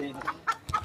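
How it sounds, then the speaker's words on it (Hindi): Hen clucking loudly near a haveli courtyard on Eid, a few sharp, irregular clucks in quick bursts with brief gaps, close to the listener. "मुर्गी को क्या हो गया, बड़ा बोल रही"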